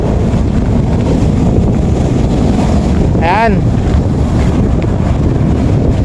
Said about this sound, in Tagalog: mas malalaki yung alon ngayon mga mister compare dun kahapon sa last upload natin ano